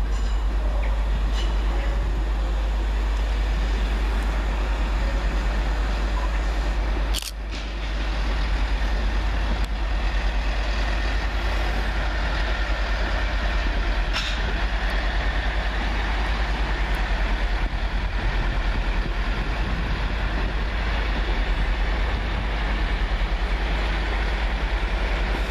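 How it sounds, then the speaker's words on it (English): A British Rail Class 165 diesel unit, 165-108, pulls into Twyford station to terminate after running from Henley-on-Thames, its engine a loud, steady low rumble that holds for the whole stretch with only a brief dip. "Coming in to terminate with a service from Henley-on-Thames is 165-108."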